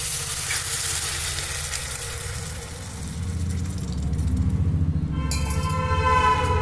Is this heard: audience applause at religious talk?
no